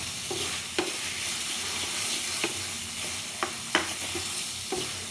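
Crab masala fries and bubbles in oil on a high flame, a dense steady sizzle heard close up, punctuated by a few sharp scrapes and taps of a spoon stirring the pan, with no voices.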